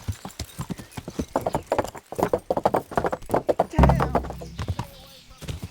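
Fast, rhythmic hoofbeats of a galloping horse in the video game Kingdom Come: Deliverance pound steadily while someone talks and exclaims over them.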